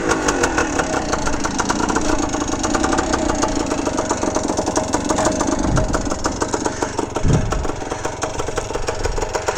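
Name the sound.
1970 Yamaha RT1 360 motorcycle engine idling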